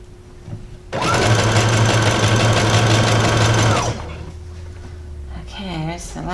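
A sewing machine runs steadily for about three seconds, stitching a zigzag seam while a dress is made over into a skirt. The whirring motor and rapid needle rhythm stand out loud and close, with a voice speaking briefly just afterward.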